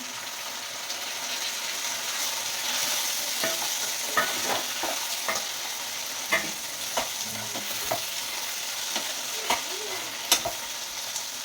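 Tomatoes frying in a pan sizzle steadily while a utensil stirs them, making regular scraping clicks against the pan.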